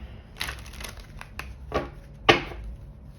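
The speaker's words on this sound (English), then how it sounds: "Let me do a quick shuffle here" Tarot cards shuffled by hand nearby, giving a few soft, quiet riffling and slapping bursts spaced irregularly, the last one sharper and louder.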